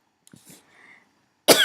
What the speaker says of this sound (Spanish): me disculpan la tos